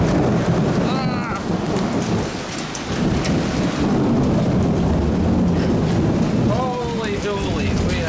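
Heavy rain pours and drums on a shed roof and leaks inside during a thunderstorm, a loud steady roar with rumbles of thunder and someone speaking briefly over it.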